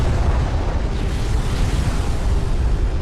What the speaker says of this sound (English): good missile barrage, gonna catch these railguns out